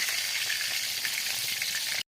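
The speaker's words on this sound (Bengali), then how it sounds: "এই যে তেলাপিয়া মাছ ভাজছি" Tilapia fish fries in hot oil for a fish curry with banana and potato, giving a dense, steady crackling sizzle that runs close and loud for about two seconds before cutting off abruptly.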